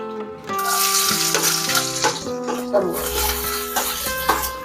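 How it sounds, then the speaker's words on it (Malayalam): Chopped garlic tipped into hot oil for a Kerala-style okra tamarind curry, a steady bright sizzle and crackle running throughout, fairly loud and close with faint kitchen clatter. "വെളുത്തുള്ളി ചെറുതായിട്ട് അരിഞ്ഞ് വെളുത്തുള്ളി ഇടുക."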